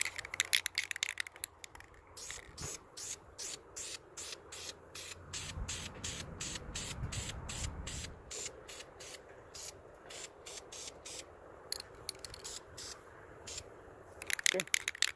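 Rapid rattling aerosol spray bursts coat C5 Corvette brake parts, the hiss pulsing in quick repeated pulls, with faint background noise.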